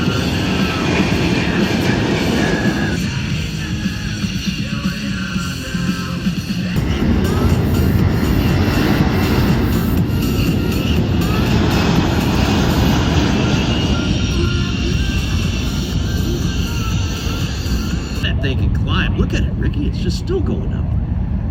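An airplane flies over the MCAS air show, its engine roaring loudly and continuously, with the roar swelling and shifting throughout as voices carry faintly underneath.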